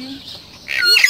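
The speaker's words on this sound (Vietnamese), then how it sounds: "Cái gì vậy? Chim." A bird gives a short rising chirp near the end, fairly close and over faint background noise, with people talking nearby.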